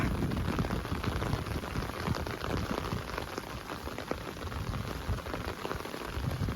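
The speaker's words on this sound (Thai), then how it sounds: "บรรยากาศฝนตกเป็นยังไงใจกลางของเมืองเชียงซี ฝนตกเอง" Steady rain falls over the town of Hongsa in Laos, a dense, even hiss of drops striking nearby surfaces that holds at a constant level throughout, with no voices.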